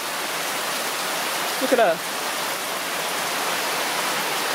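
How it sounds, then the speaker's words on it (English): Heavy torrential rain pours down in Negril, Jamaica, a steady loud broadband hiss of rainfall throughout, with a brief spoken remark in the middle. "show you what Jamaica rain looks like when it starts to rain. You just, it's torrential."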